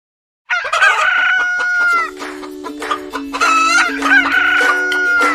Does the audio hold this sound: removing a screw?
no